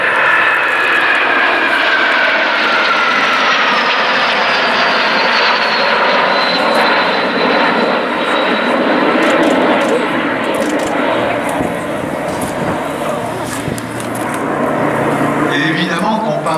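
A Fouga Magister jet roars overhead at an air show with a loud, steady, sustained engine drone and a slowly falling whine as it passes, and a commentator speaks over it.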